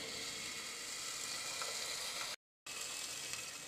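A pan of onions sizzles steadily, loud and close, with a brief gap of silence partway through.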